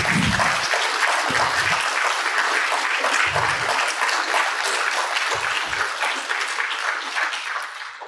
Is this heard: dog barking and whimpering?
no